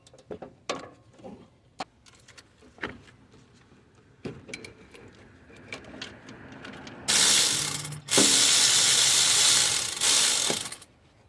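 A ratchet socket wrench works a 12mm bolt on a Toyota RAV4 alternator, giving scattered sharp clicks and knocks, then a loud, steady broadband rushing noise fills the last few seconds.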